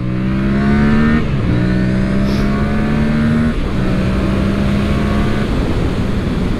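Yamaha MT-07 twin-cylinder motorcycle engine under way, loud and close, revving up through the gears with brief dips at each shift and steady pulling drone between.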